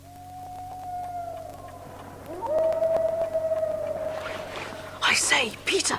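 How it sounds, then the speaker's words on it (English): Long, rising and falling wolf-like howls drift in from a distance over a low steady hum, several drawn-out wails overlapping before bursts of brighter, noisier sound close the scene in a dramatised story. "It was just like wolves howling"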